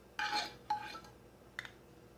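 A freshly ground dosa chutney mix is moved into another vessel, with three brief, faint clinks of utensils against metal pots in a quiet room.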